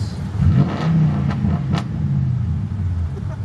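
A classic car engine at a cruise gathering turns over and catches, settling into a close, steady low rumble with slight revving swells throughout.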